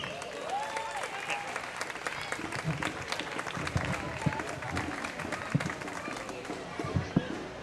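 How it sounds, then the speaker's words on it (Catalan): A festival crowd at a neighbourhood street celebration applauds the proclamation speaker, moderately loud and sustained, with scattered louder claps, some shouts and talking voices mixed in. "Andreu, un fort aplaudiment."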